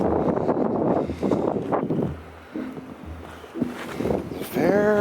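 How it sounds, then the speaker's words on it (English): Gusty wind buffets and rumbles against the microphone on a walk up Mt. Crumpit, rising and falling in bursts, while a person talks over it and footsteps and rustling come through. "Very windy up here."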